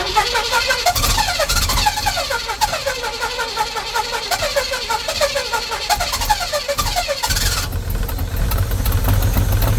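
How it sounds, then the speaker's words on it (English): A 1977 Pontiac Firebird Formula barn find with a carburetor, parked since 2007, has its engine crank and then settle into a loud, steady, pulsing idle that changes tone near the end. "Going to crank the key, get some fuel going up to the carb."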